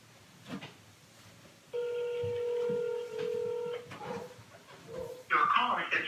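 A telephone call rings out over a speakerphone, a steady electronic ring tone lasting about two seconds, followed by a short burst of brighter line noise, with a voice speaking faintly in the background.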